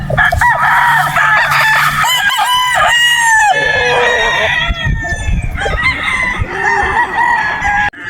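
Sweater Gilmore gamecocks crow loudly at a game farm, several long overlapping crows rising and falling one after another, with clucking and other fowl close by throughout.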